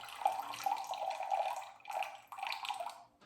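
Water pours into a measuring cup set on a kitchen scale while sourdough is being made, a close, splashing trickle that runs in two short bursts with a brief pause between them.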